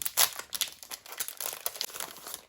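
Pretty background paper from a stationery box crinkles and rustles up close in quick, uneven bursts as it is unwrapped and handled. No talking.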